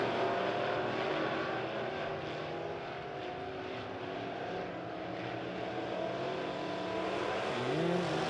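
Midwest modified race cars roar around the Springfield Raceway dirt track in a steady, droning pack, engines rising and falling as they pass, heard at a moderate distance.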